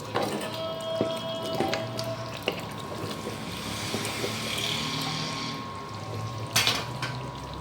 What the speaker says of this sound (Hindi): मैं गोश्त के अंदर ये फुल जग पानी का डालूंगी ताकि गोश्त अच्छे से गल जाए